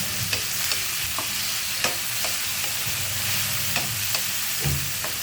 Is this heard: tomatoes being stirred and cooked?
yes